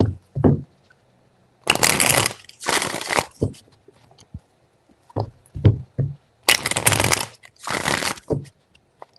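Tarot cards are shuffled by hand in several loud, crisp bursts of riffling and shuffling separated by short pauses, close up with no voice.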